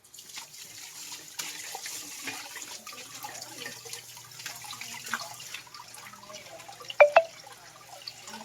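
Running tap water splashes over bitter gourd being washed in a sink, a steady moderate stream with small clinks and a couple of louder splashes near the end, no voices.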